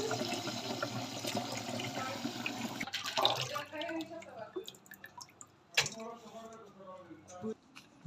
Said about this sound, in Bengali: দুইবার ধুয়ে নিতে হবে তাতে কষগুলা ধুয়ে চলে যাবে